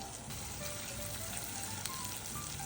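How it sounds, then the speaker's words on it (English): Butter and brown sugar simmering in a pan over medium heat, a steady, even bubbling sizzle that holds at a constant level throughout, with no voices. "let this bubble over medium heat until it starts to have more of a caramel-like aroma"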